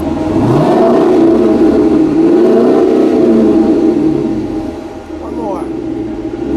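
A 2018 Chrysler 300 Hurst Heritage engine revs up sharply and close, holds a growling roar, then settles back toward idle.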